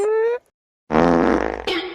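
A short, loud, buzzing fart sounds close up after a brief squeaky vocal noise and a moment of silence.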